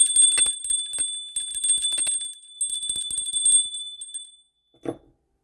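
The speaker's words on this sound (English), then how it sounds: "Let's ring the bell more often, why not?" A bell rung repeatedly in a quiet room, bright sustained metallic tones struck in quick succession and left to ring, then fading out before a brief low knock at the end.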